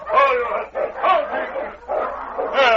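A dog barks and yelps excitedly in repeated bursts, close by, mixed with raised voices.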